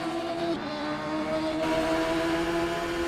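Race car engines at Road America, a steady loud droning roar with sustained engine tones that shift slightly in pitch, filling the whole span without pause.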